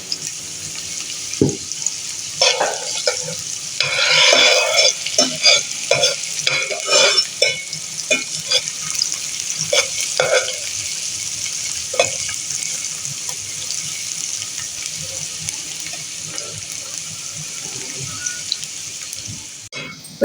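Onions frying and sizzling in a pan for chana dal, with steady sizzle and repeated stirring scrapes throughout, plus occasional water and clinking sounds, close up and with no talk.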